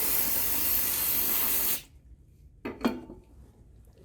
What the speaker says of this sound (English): Hit it with some brake cleaner.